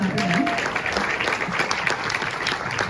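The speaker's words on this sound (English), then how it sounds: "Yes, let's clap again." A live audience applauds steadily and densely at a Q&A screening event for the 2024 series Baby Reindeer, a close, full wash of clapping that holds for the whole stretch, with a brief faint voice at the start.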